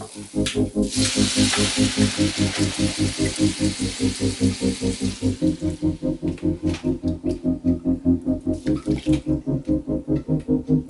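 A pot of cabbage-flavoured water boils with a steady bubbling that rolls on with a rapid pulsing rhythm and a broad hissing wash over it, close and continuous, with no talking.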